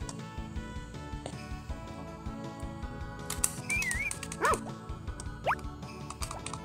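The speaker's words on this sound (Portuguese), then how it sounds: "Brincar um pouquinho aqui com o cachorro, Totó." A dog in Harvest Moon: Back to Nature gives a few short yips and barks over steady game music, with small chirpy effects mixed in, moderately loud.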